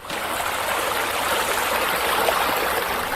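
A waterfall feature at a swimming pool pours steadily, giving a dense, continuous rushing wash of water with no pauses, fairly close and alone.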